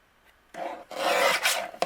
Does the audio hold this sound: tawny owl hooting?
no